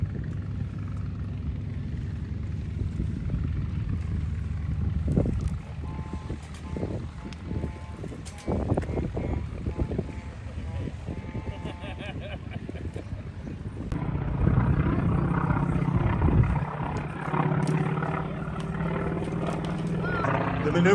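A vintage warplane maneuvers at a military aviation museum air show in Virginia Beach, its engine drone rising and falling as it passes in a steady loud roar, growing stronger near the end, with someone narrating over it.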